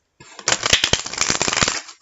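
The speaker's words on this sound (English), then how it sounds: "I'll give one last shuffle." A deck of cards riffled and bridged up close, a rapid burst of crisp flutters and snaps lasting about a second and a half.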